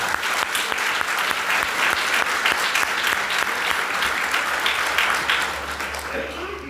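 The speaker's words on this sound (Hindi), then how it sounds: "एक जोरदार ताली बजाकर हम प्रभु के नाम को धन्यवाद।" Loud, dense applause from a church congregation at a Hindi-language New Year service, sustained clapping that carries steadily for several seconds before thinning out near the end.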